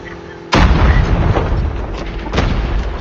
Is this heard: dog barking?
no